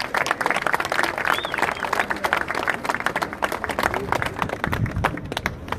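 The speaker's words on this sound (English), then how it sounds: "give him a round of applause" Crowd applause at an outdoor free speech rally in New Zealand, sharp individual claps densely layered into a loud, sustained burst with crowd murmur beneath, steady throughout.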